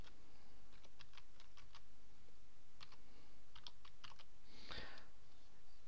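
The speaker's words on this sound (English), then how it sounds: "the first thing to do is to enter the domain name that you're thinking about registering" Computer keyboard typing a domain name into a registration site, two short runs of crisp, close keystrokes separated by a pause, ending with a louder final tap.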